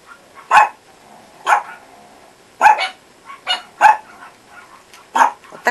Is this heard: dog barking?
yes